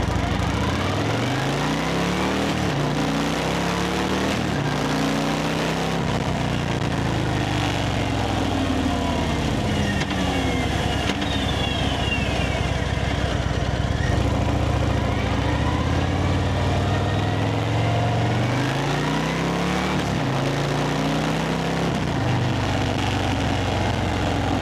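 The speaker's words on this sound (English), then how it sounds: "The bike comes stock with the deepest exhaust I've ever heard." A 2025 Harley-Davidson Fat Boy idles and blips through its stock exhaust, a deep, continuous low rumble with rising and falling revs, loud and close throughout.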